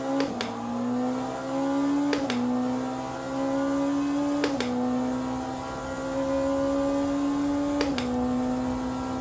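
Race car engine in Le Mans Ultimate on a full lap, a loud steady drone that climbs in pitch through each gear and drops sharply at shifts around 2, 4.5 and 8 seconds, with no talk.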